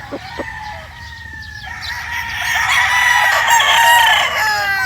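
Gamefowl roosters crow repeatedly at a game farm, several overlapping cock-a-doodle-doos rising in loudness, with hens clucking in the background over a steady outdoor hum; no one speaks.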